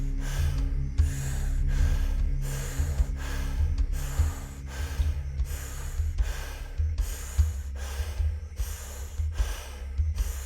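Deep conscious breathwork exercise: about a dozen forceful, rhythmic breaths repeat evenly at close range over a steady low droning tone, with no talking.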